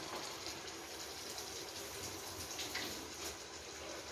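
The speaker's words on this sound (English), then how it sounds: "I'll just give it a quick rinse" Tap water runs steadily to rinse a green pepper in a home kitchen, a continuous close rushing wash with no talk over it.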